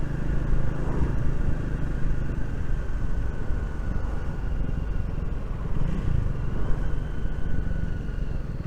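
A Triumph Speed 400 motorcycle rides through a town, its engine a steady, continuous rumble with road noise and no pauses.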